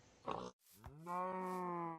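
A molten-iron fluid cow from the Sky Factory 2.5 Minecraft modpack gives a short grunt, then a long, loud, tonal moo that holds steady to the end, with nobody talking.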